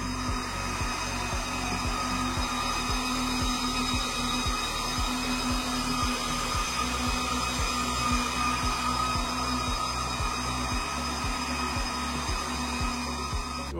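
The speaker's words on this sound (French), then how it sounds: "ça gueule quand même fort les Jasminer" Jasminer crypto mining rigs with small fans roar in a loud, steady mechanical whine with a constant pitched hum and a fast rhythmic ticking underneath, continuous and close with no speech.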